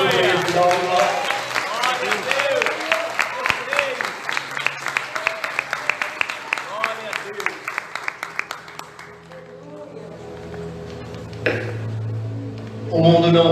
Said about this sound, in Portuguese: Você pode aplaudir ao Senhor por isso, dá um glória.